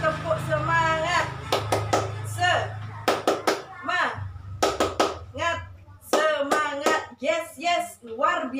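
Indonesian schoolchildren in a classroom perform a rhythmic clapping routine, chanting loudly together as bursts of synchronized claps punctuate the chant in quick patterned groups.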